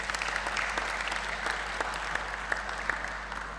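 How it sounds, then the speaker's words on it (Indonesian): An audience at a reunion gathering gives sustained applause for the organizing committee, steady even clapping heard from a moderate distance, fairly quiet. "Tepuk tangan untuk mereka semua."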